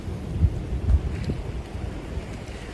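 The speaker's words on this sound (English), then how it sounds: "It's windy out here today." Wind blows outdoors in a field and buffets the microphone, a steady rumbling roar with a few louder gusts, close and continuous, with no voices.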